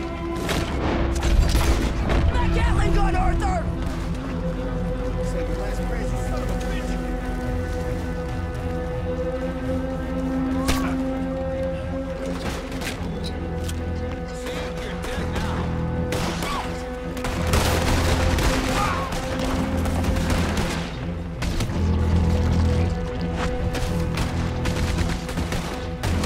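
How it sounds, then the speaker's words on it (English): Gatling gun fire in the Red Dead Redemption 2 video game comes as bursts of rapid shots and booms over a continuous game soundtrack, with loud blasts recurring throughout. "That Gatling gun, Arthur!"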